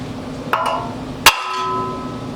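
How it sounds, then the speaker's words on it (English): Two metallic hammer whacks on a stuck Honda Civic rear brake rotor, a lighter clank then a sharper ringing hit, each leaving a brief metallic ring over a steady background hum. "I'm gonna have to get Baby Thor, give it a couple whacks to get it off."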